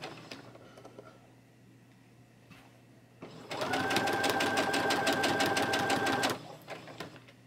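A sewing machine stitching down a fence rail quilt block runs in a steady, fast, loud mechanical whir for about three seconds, after quiet handling sounds and a few soft clicks.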